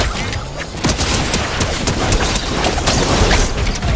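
Dense, continuous gunfire from a Fortnite match, rapid overlapping shots and cracks filling the whole stretch, loud and close without pause.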